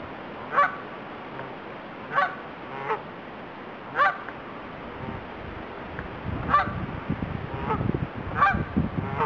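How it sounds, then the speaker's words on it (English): Geese honk several times in short, scattered calls, fairly close, over a quiet outdoor background that grows rougher with wind or handling noise near the end. "And there's Dauset looking at the geese."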